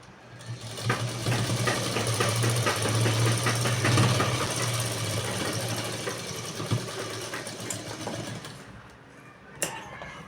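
A sewing machine stitches a lined blouse in one steady, loud, close run of rapid mechanical chatter with a low motor hum, then stops, leaving a brief tap near the end.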